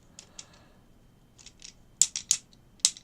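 Ratcheted joints of a transforming toy robot click in short, sharp bursts, a few soft clicks early and then a louder cluster of snappy ratchet clicks near the end, close and alone.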